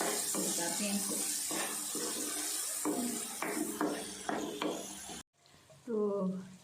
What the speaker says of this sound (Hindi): धनिया साफ़ करके हम रख लें। इसको मैं धो के रख लेती हूँ